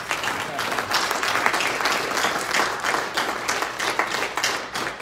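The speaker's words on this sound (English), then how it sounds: "Give yourselves a round of applause for making it through the pandemic" Standing audience at the SAAA annual meeting in 2021 claps steadily in a dense, lively round of applause, close and continuous throughout.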